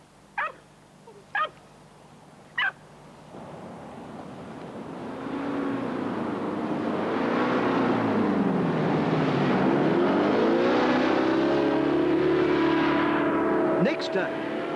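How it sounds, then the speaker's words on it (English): A hovercraft engine on a trip to the Cape Scott settlement, a loud sustained roar that builds up after a few sharp knocks and holds steady with a shifting droning whine. "Next day, we took the hovercraft to the Cape Scott settlement."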